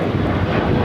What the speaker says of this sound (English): taking off to Las Vegas on the 737-800.